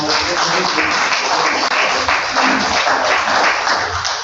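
Audience at an economic development forum clapping for a panel, a loud, close, continuous round of applause with a brief spoken word near the start.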